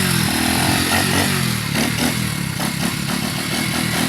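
Battery-powered kids' BMX bike with a weak battery, running: a loud, steady motor whine with rattling clatter throughout, close up and continuous, no one talking.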